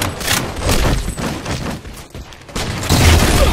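Gunfire in a Halo 4 Slayer match: dense, loud bursts of shots and booms running almost continuously, with a heavier blast toward the end.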